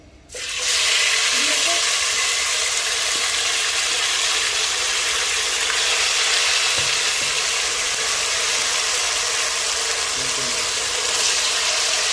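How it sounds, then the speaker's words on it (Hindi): Oil hits a heated large cooking pot and bursts into a loud, close sizzle that holds steady and even, with faint clinks now and then. "गरम करने के बाद अब मैं उसमें ऑयल डाल रही हूँ"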